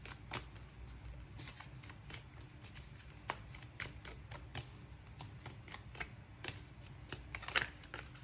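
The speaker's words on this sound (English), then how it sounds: "I'm going to shuffle again because that was about half the deck that fell out." A deck of tarot cards is shuffled by hand at close range, soft riffling and slapping strokes repeating in a steady rhythm for several seconds, quiet and without speech.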